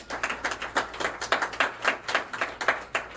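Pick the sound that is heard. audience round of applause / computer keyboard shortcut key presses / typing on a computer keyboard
audience round of applause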